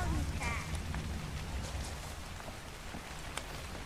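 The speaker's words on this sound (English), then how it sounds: "Man, it's raining." Rain in ARK: Survival Evolved falls as a steady hiss with scattered drops, a brief voice-like sound near the start, otherwise unbroken.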